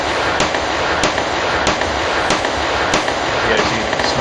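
Weapon fire in the horror game Cry of Fear, a steady series of sharp gunshots about every half second over a dense, loud rumbling background.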